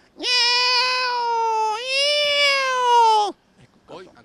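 A voice imitates a cat with one long, wavering meow that rises and bends midway, loud and close, followed by a brief murmur.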